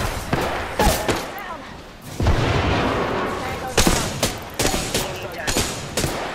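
Apex Legends gunfire comes in bursts of sharp shots and heavier thumps, with a short lull before a dense volley and scattered single shots after, and a voice talks underneath.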